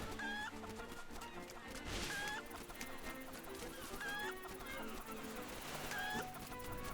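Pet chicken clucking in the video game Link's Awakening, repeated short clucks at roughly two-second intervals over steady game music.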